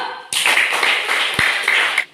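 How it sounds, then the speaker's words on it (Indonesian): A group of people claps in a classroom, a dense burst of hand claps starting abruptly and running steadily for nearly two seconds before stopping. "Ya, tepuk tangan dulu"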